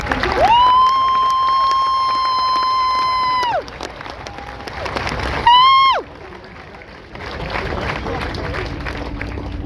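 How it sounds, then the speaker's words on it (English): A crowd cheers and applauds Marine drill instructors at a 2023 Marine recruit graduation, with long sustained whistle-like tones ringing over the noise before the applause swells again near the end. "Would you join me for one last final round of applause for the Marines who make Marines?"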